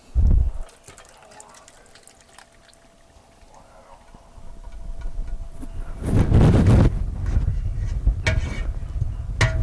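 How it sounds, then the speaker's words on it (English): Thick mac and cheese poured from a pot into a skillet in a home kitchen, giving wet, sloppy splatters and scraping that swell louder in the second half after a quiet stretch. "now let's go over and pour it in the skillet"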